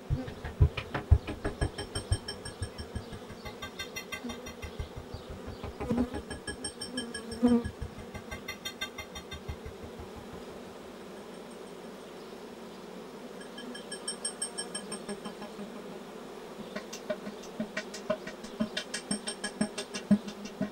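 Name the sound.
honeybees buzzing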